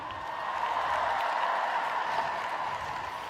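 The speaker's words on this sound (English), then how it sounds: "let's give a big round of applause for the friendly FISU family" An audience applauds at the 2017 Almaty Universiade opening ceremony, a steady wash of massed clapping swelling and holding for a few seconds in a large venue.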